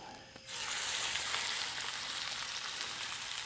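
New York strip loin laid fat side down into a hot pan, bursting into a loud, sustained sizzle after a brief quiet moment and hissing steadily to the end.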